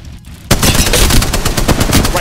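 Rapid automatic gunfire in the Apex Legends video game, bursting in loudly after a brief quiet start and continuing as a dense, steady stream of shots.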